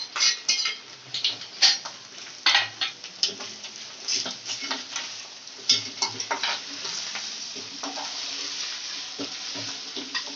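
Mutton keema being stirred into softened fried onions in a pan, with steady sizzling and repeated scraping, clinking spoon strokes against the pot, close and fairly loud, with no talking.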